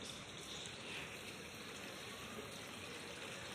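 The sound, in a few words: water pouring from a government project pipe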